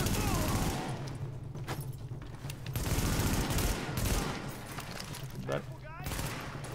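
Gunfire from the video game The Division, dense bursts and shots ringing out continuously, moderately loud, with game sounds and a voice talking over it.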